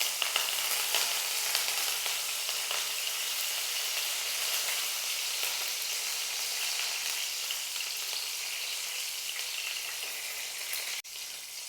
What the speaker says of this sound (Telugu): ఈ ఆయిల్ హీట్ అయిన తర్వాత 2-3 రెమ్మలు కరివేపాకు వేసుకోవాలి.